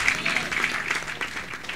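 Brief applause from a church congregation during Palm Sunday worship, a short burst of clapping mixed with voices.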